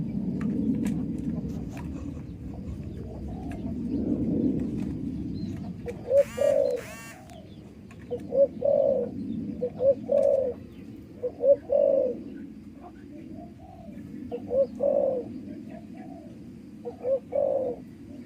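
Spotted doves in a breeding cage coo in repeated rhythmic phrases at close range, following a stretch of low rumbling background noise, with faint chirps scattered throughout.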